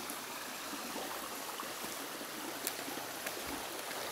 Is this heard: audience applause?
no